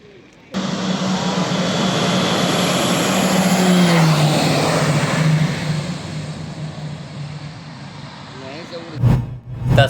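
A light aircraft engine runs at Dumka airport, a loud steady drone close by that swells slightly and then fades, before brief bursts of other sounds and faint voices at the end.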